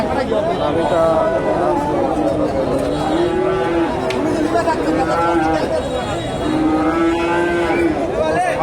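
Friesian bull cattle on a farm moo repeatedly, with long drawn-out calls rising over a steady murmur of nearby people talking and general farmyard bustle.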